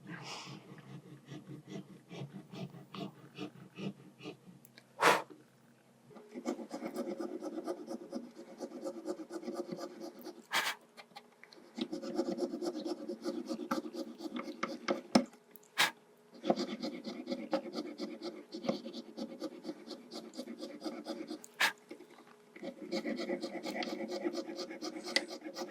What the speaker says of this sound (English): It's quite relaxing piercing in wax.